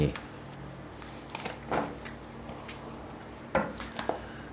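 Tarot cards shuffled and handled during a reading, producing sporadic soft papery flicks and a few sharper slaps, close and quiet, with no talk.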